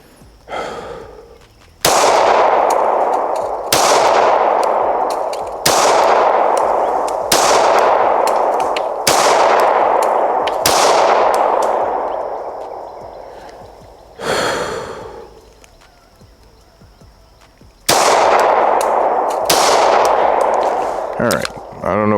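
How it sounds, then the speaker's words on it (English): Handgun shots fired at a target from about seven yards on an outdoor shooting range, roughly nine sharp loud cracks spaced a second or two apart, each with a short decaying tail, then a longer pause before the last few. "we'll take a few shots on that target from about 7 now"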